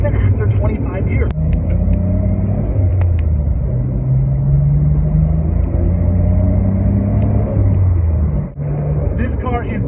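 A 25-year-old Nissan Skyline GT-R engine hums low and steady from inside the cabin while driving, a continuous rumble with shifting pitch and brief dips, plus some faint intermittent clicks.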